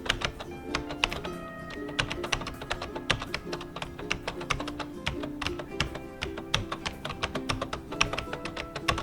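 Someone types a student ID on a computer keyboard in a quick, uneven run of close, crisp key taps and clacks, with no talking.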